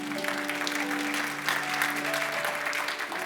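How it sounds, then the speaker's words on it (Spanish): A church congregation at a Christian community service claps steadily, a dense, even wash of applause with a low sustained tone underneath, continuing throughout without pause. "Denles aplauso fuerte a Cristo"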